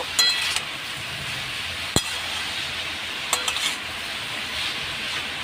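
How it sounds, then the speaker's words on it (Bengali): Papaya pieces stirred into spice masala in a pan: a steady hiss of frying under the mixing, with a few sharp clinks of the spoon against the pan and no talking. "পেঁপেগুলো দিয়ে দিলাম এর মধ্যে। এবার আমি মশলাটার সঙ্গে ভালো করে মিশিয়ে নেব।"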